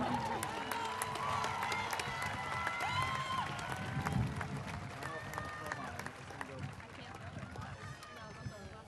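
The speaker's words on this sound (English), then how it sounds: "Let's give Melissa one more round of applause." A graduation ceremony crowd applauds with dense, sustained clapping and some cheering, loud and continuous throughout, easing off slightly toward the end.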